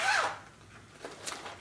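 Zipper on an A4 zipper bag being drawn open, a short rasping zip at the start followed by faint rustling and crinkling of the bag, close and fairly quiet.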